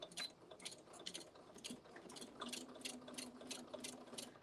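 Home sewing machine back stitching on a quilt, its needle clattering in a steady rapid rhythm of repeated ticks with a faint motor hum underneath, close and alone.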